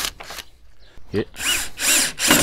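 A power drill drives a wood screw into steel while fitting a door lock, giving short bursts of whirring that grow louder and longer toward the end, with brief pauses between runs.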